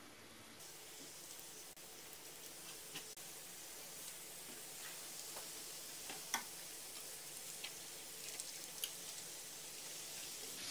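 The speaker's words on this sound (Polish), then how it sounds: "Smażę na rumiano po jednej i po drugiej stronie." Quiet, continuous sizzling and crackling of doughnuts frying in hot fat, with occasional small pops and ticks and no talking.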